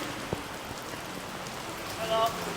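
Steady rain falls and patters on surfaces outdoors, a dense continuous hiss heard up close, with a faint voice and a brief knock during the downpour.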